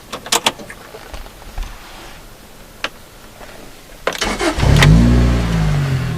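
A Lotus Elise with an aftermarket Larney exhaust starting up: a few scattered clicks and small noises first, then the engine catches with a loud burst that settles into a steady, rumbling idle close by.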